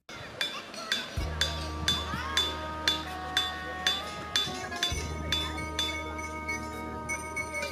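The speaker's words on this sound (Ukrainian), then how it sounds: "Вдаривши по будь-якому з них молотком, ви почуєте дзвін" A hammer strikes ringing rock again and again in a steady rhythm, each blow leaving a bright, bell-like metallic tone that lingers.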